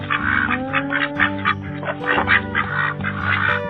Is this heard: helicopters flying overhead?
no